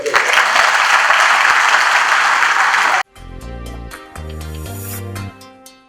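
An audience claps loudly and steadily for a singer and her team for about three seconds before it cuts abruptly to a bright musical jingle.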